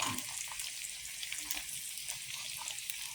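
Pork chop frying in a pan with garlic, butter and olive oil gives a steady close sizzle with broadband crackle, punctuated by a few soft stirring and clinking touches throughout.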